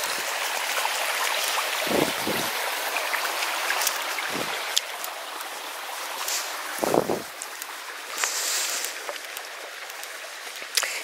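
A stream at Rowberrow flows with a steady, broad rushing babble throughout, close and continuous, broken only by a few low thuds, likely footsteps or handling, along the walk.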